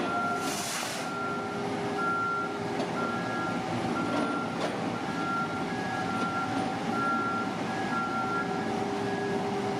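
Construction machinery works at a site where a pond has been filled in, with a truck's reversing beeper repeating steadily over a continuous engine rumble and clanking throughout.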